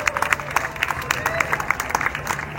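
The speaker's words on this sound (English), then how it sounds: "you all deserve an enormous round of applause" An audience at a celebration of motion pictures and their artisans breaks into applause, dense clapping with a murmur of crowd voices mixed in, steady and moderately loud throughout.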